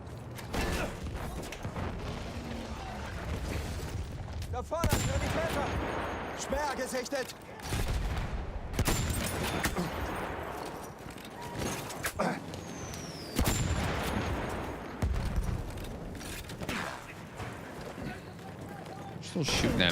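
Rapid gunfire and explosive bursts from a Battlefield shooter match, dense and repeated throughout, with bursts and impacts layered near and far and a voice talking over the combat.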